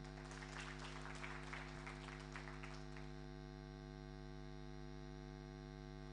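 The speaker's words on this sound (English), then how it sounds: "A round of applause for Monica." Audience applause at an SME conference and expo, a burst of clapping over a steady electrical hum that fades out after about three seconds, leaving only the hum.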